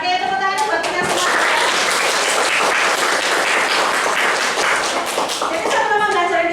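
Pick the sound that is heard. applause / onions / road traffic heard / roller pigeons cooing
applause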